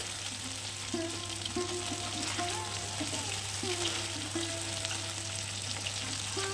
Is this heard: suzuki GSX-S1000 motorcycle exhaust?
no